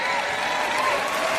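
A church audience at a sermon keeps up steady, dense applause, loud and even throughout with no breaks.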